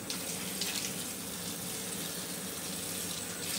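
Water runs from a bathroom tap into a sink as a steady, soft hiss and splash, continuous and fairly quiet with no voices.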